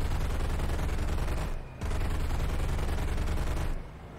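Sustained machine-gun fire from the defensive gunners of a B-17 Flying Fortress bomber in War Thunder, a steady, loud, unbroken roar of shots that stops twice, briefly near the middle and again just before the end.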